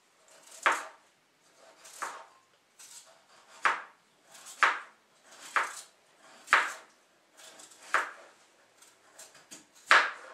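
Potatoes being sliced for a bacon-lardon gratin, about a dozen crisp knife chops on a board at a steady, unhurried pace, close and distinct with quiet pauses between strokes.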